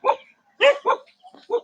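Dogs bark in short, sharp bursts, about five loud yaps spaced irregularly and heard close by, with faint yips between them and no talking.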